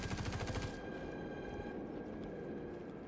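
Gunfire in Star Citizen: a short, rapid burst of automatic shots up front, then a fading ringing tail and quiet background.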